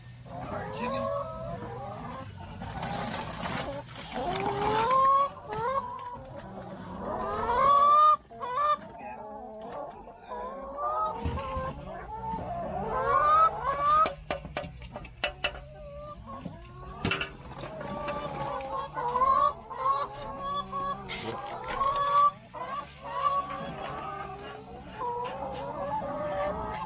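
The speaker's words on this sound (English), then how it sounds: "We got chickens." Backyard chickens cluck and squawk in a homestead coop in irregular bursts, close and fairly loud, with occasional clanks and bumps of handling and a few faint human sounds mixed in.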